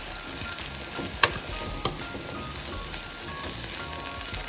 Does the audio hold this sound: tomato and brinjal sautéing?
yes